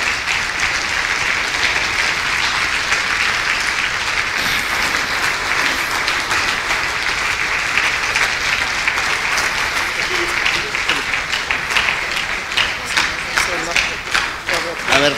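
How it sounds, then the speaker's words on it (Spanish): Sustained applause from a large church congregation, steady and dense throughout, with clapping growing more distinct and uneven toward the end. "Vamos a ponernos de pie y vamos a recibir al hermano Myers con un aplauso fuerte."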